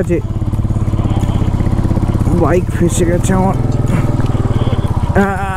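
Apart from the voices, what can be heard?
motorcycle engine revving, stuck in mud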